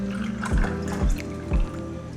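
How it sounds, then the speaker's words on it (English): Sprite splashed from a can into a Flaming Lawnmower cocktail of watermelon vodka and melon liqueur, a close continuous pour with about three gulping glugs as the can tips, no voices. "Splash of Sprite."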